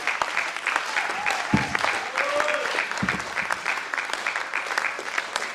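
A church congregation claps and cheers for their pastor, sustained dense applause with scattered shouts and voices mixed in throughout.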